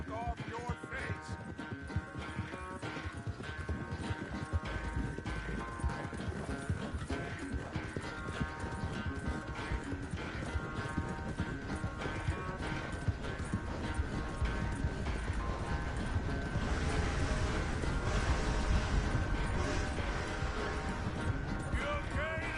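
Horse hooves clip-clopping steadily in Red Dead Redemption 2, a continuous trotting rhythm under a dense layer of game music and ambience.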